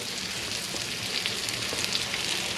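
A thin piece of meat sears in a hot pan with a dense, even sizzle that holds steady and close throughout.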